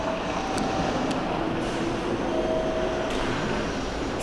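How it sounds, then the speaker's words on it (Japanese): Train pulling into a busy station platform in Aichi, a steady loud rumble of the approaching cars with faint squealing brake tones and a few clanks, continuous throughout. "また電車がやってきました。"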